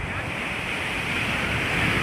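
Ocean waves roll in on Puri beach in Odisha, a continuous broad roar of surf with wind noise buffeting the microphone, steady and loud throughout.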